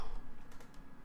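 Quick, light keystrokes clatter on a computer keyboard while code is entered in the Unity editor, a brief close burst of tapping with no talk.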